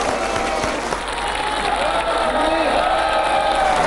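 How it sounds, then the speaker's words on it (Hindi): Vigorous audience applause with some cheering for politician Akhilesh Yadav at a televised poetry gathering on stage, continuous and full for a few seconds. "जोरदार तालियां अखिलेश यादव के लिए।"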